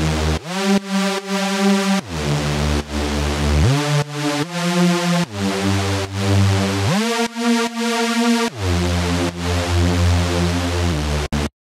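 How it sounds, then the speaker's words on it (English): Reese bass synth layer built from two detuned unison saw wave oscillators, playing a loud sustained riff with shifting pitches in a few long phrases, alone throughout. "the first bass layer is going to be the Reese"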